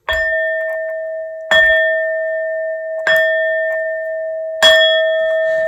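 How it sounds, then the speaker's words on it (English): Four struck bell tones ring out one after another, each about a second and a half apart, opening a tarot reading; every strike rings clearly with a long sustained, slowly fading hum before the next. "These next 4 bell sounds are to align us and to bless your reading."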